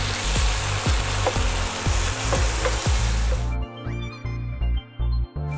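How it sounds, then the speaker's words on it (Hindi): Onions and tomatoes sizzle steadily in hot oil with cumin, a dense crackling fry with repeated clinks of stirring; the sizzle drops back partway through, leaving quieter frying between sharper knocks. "यहाँ पे हमने ऑयल जीरा लिया है, इसमें डालेंगे अनियन"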